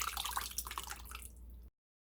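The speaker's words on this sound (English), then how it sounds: "I'm going to pour my chicken broth right over the top of that" Chicken broth poured over other ingredients in a crock pot, a short, splashy, bubbling pour up close that lasts under two seconds and then cuts to silence.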